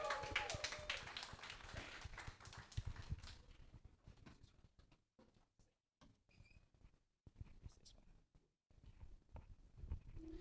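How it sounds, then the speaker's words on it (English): Applause from a conference audience welcoming a speaker to the stage, loud and dense at first, then thinning out into scattered claps and fading before picking up briefly again. "give a round of applause"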